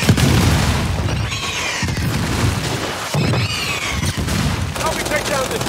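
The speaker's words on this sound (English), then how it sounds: "Throwing frag!" Frag grenade blast amid heavy combat in Gears 5 co-op play, loud repeated booms and gunfire bursts layered with whooshing effects, dense and continuous from start to finish.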